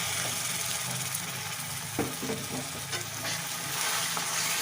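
Duck meat curry is stir-fried in a pan, a continuous close sizzle with scraping stirring strokes and spatula knocks against the pan.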